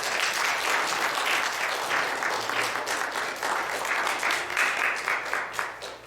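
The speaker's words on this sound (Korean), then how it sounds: "격려하며 박수하도록" A church congregation at a Christmas Sunday service applauds warmly after an infant's baptism, a dense continuous clapping from many hands that carries on steadily for several seconds.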